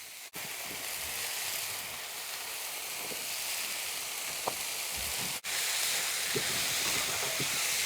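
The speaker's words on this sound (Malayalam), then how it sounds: "പാവയ്ക്ക അങ്ങോട്ട് ഇട്ട് കൊടുക്കാം." Bitter gourd sizzling in hot oil in a frying pan, a steady close hiss running throughout with faint crackles and a couple of brief breaks, no talking.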